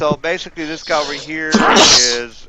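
A sudden, forceful sneeze bursts out midway through a man's steady speech, loud and close, with talking continuing right after.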